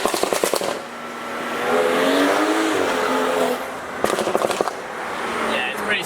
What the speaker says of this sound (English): Let off the throttle, it pops like crazy.